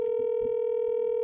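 A steady, unbroken electronic telephone tone hums alone for just over a second as a phone call is placed.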